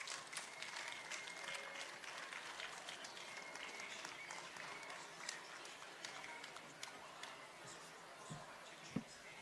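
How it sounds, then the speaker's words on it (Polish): Audience applause for participants at the 7th Silesian Science Festival in Katowice, steady continuous clapping across a large hall, moderately distant, with a few sharper claps near the end. "Brawa dla uczestników tego wydarzenia."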